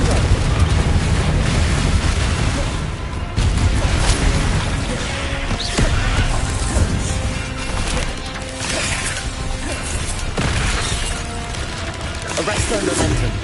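Confringo blasting spells fired again and again in the game Hogwarts Legacy, loud booming explosions and crashing impacts layered over dense combat noise, with a voice calling out spell names between blasts.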